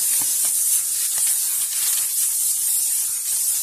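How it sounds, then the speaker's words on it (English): A steady, hissing spray of cooking spray from an aerosol can onto a pan, held continuously for several seconds at close range. "Go ahead and spray your pan here."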